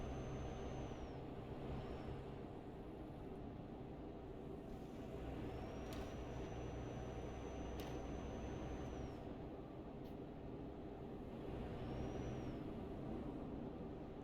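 Air brakes hissing on a truck in a truck driving game, with short pneumatic hisses and sighs repeating every few seconds over a constant low engine drone, fairly quiet throughout.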